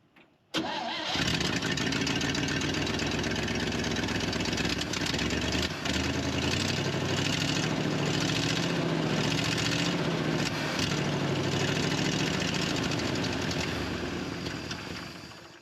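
An engine cranks and catches almost at once, then settles into a steady, fairly loud running drone that continues to the end without any talking.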